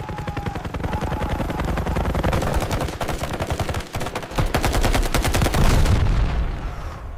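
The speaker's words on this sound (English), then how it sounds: "The defensive position disappeared beneath a storm of bullets." Sound effect of gunfire from an air assault: dense, continuous bursts of rapid automatic fire with sharp repeated cracks and heavy low thumps, loud and close, with no voices.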